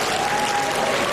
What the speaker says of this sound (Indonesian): Kita berikan aplaus untuk kedua